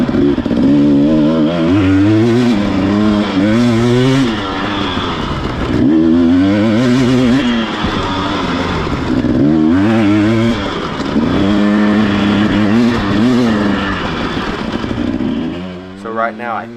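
Dirt bike racing on a knobby creek track, engine revving hard with repeated rising and falling throttle sweeps as the rider powers out of corners, loud and close from the onboard position.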